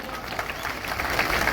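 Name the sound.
crowd applause at farmers' rally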